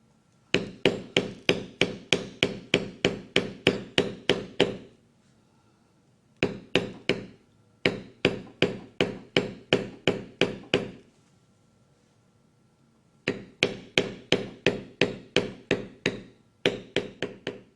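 A mallet strikes a beveling tool into carving leather in rapid, even bursts of sharp taps, about a dozen per run, separated by brief pauses as the tool is walked along; close, crisp and loud with no talking.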